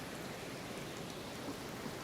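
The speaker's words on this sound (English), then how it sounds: "Oh, it's raining now." Steady rain hisses evenly in Skyrim VR, a dense wash of falling drops with no breaks, filling the whole stretch at moderate loudness.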